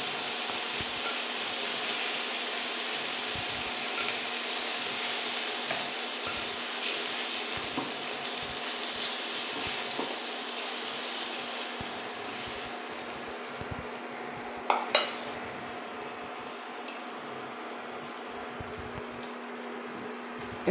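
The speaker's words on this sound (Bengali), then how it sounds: "এইভাবে এরকম করে ভেজে নিলাম।" Prawns frying in hot oil, a loud continuous sizzle with occasional stirring scrapes and a couple of sharp clinks near the end, for doi chingri.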